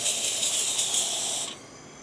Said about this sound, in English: as the thermoblock gets hot, we can see steam coming out of the one.